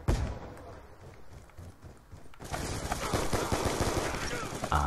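Rapid automatic gunfire from a Call of Duty team deathmatch, with clips emptied in sustained bursts that swell loud after a quieter opening and run continuously to the end.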